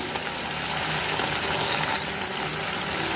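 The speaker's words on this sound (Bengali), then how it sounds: "লঙ্কা বাটা দিয়ে এবার আমি এখানে হলুদ আর লবণ দিয়ে দেবো।" Chilli paste with turmeric and salt fries in a pan, giving a soft, continuous sizzle with light crackling, fairly quiet and steady, with no voices.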